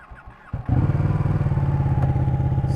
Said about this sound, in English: I'm gonna jump on a Ducati, go for a ride in the perfect blue sky